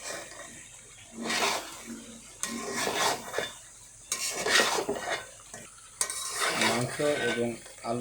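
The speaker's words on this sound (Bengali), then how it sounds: "মাংস এবং আলু ভালোভাবে একটু ভালো করে কষাতে হবে" Chicken and potatoes being stirred and seared in a hot pan, with repeated bursts of a utensil scraping against the metal over a steady sizzle, close and moderately loud, and no talking.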